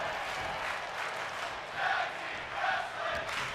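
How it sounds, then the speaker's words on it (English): A wrestling crowd in WWE 2K25 chants during a tag team match: a dense, steady roar of many voices with rhythmic swells rising and falling in the background. "And the crowd chanting tag team wrestling"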